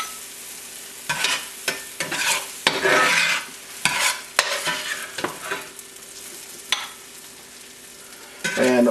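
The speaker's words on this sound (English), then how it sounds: "I'm going to stir these and stir them and cook them down" Onions stir and fry in a pan, a steady sizzle broken by repeated scraping and clattering stirs in an irregular rhythm, close and fairly loud.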